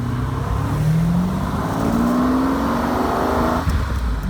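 A 1972 Jaguar E-Type Series III roadster's 7.0L V12 revs steadily with a deep, throaty intake roar that rises in pitch, loud and close, then eases off near the end.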